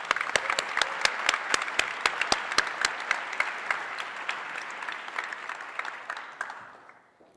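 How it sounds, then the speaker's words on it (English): Audience at the Cherokee People's Choice Awards breaking into applause, sharp individual claps standing out over a dense wash of clapping that gradually thins and fades out near the end. "So let's just give him a round of applause."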